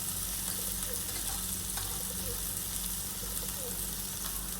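Okra sliced for bhendi bhaji stir-fries with turmeric and coriander powder, making a soft, continuous sizzle with faint scraping of stirring, fairly quiet and without talk.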